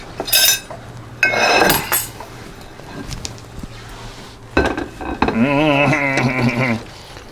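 Utensils clink against a plate and pot as spaghetti and sausage are served from a CalmDo multicooker. Sharp clinks come in scattered bursts, and a wavering tonal sound follows near the end.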